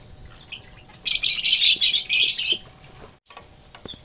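Lovebirds, a pair of Euwing-type birds, break into a loud, close burst of shrill chirping and squawking lasting about a second and a half, then fall quiet with a few faint tweets after.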